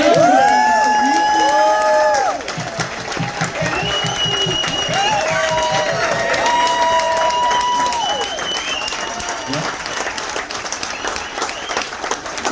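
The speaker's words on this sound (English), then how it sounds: "can we just give them a round of applause for their dedication?" A crowd at a fan cruise meetup with the band claps and cheers continuously, with whoops rising over the applause; people's voices are mixed in throughout.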